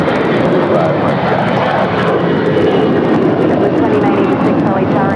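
A fixed-wing airliner takes off from a runway at LAX, its engines giving a loud, continuous broadband roar that stays steady throughout, with no speech heard.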